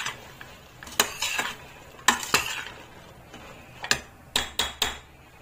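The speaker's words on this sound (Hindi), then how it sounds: "बहुत अच्छे से मिक्स कर देंगे" Sponge gourd curry stirred in a pan: a spoon clinks and scrapes against the metal in several sharp knocks spread unevenly over a few seconds, close and moderately loud, with a faint sizzle underneath and no talking.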